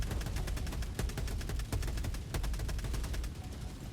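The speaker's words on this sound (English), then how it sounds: "I call in an Orbital Gatling Barrage over towards the War Strider and then fire off an ultimatum" Relentless rapid-fire barrage in Helldivers 2, an Orbital Gatling Barrage hammering a War Strider alongside Ultimatum fire, a loud, dense stream of pounding shots with booming low end, continuous for the whole stretch.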